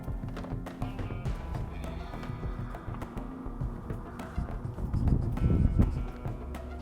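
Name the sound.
woodpecker tapping on wood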